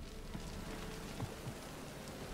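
Steady rain falls in The Witcher 3 video game, a soft continuous patter on surfaces heard faintly and evenly throughout.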